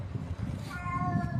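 A cat meows in a short, clear call partway through, heard over steady low background rumble at a temple area.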